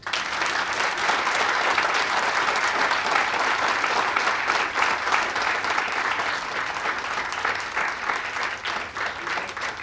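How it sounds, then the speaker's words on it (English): A conference audience claps for several seconds after a keynote speech, a dense, steady patter of hands that eases slightly toward the end. "I think we deserve a big clap."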